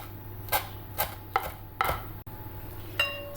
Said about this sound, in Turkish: Maydanozum var. Bir avuçtan biraz fazla. Hemen onu doğrayacağım.